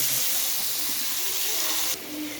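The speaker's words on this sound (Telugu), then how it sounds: "ఇప్పుడు మళ్ళీ కొంచెం వేసి ఆయిల్ వేసి ఇవి ఉండే చేపలు, ఇవి చిన్న చిన్న బొద్దులు ఫ్రెండ్స్, ఈ జల్లలు ఇవి కూడా ఫ్రై చేద్దాం" Small fish frying in oil give a steady, close, broadband hiss that lasts almost two seconds, then drops abruptly to a quieter sizzle.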